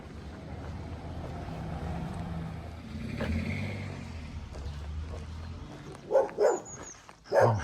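Dogs bark in a few sharp bursts near the end, over traffic and wind noise on a street on the Camino de Santiago near Saint Jean in the evening.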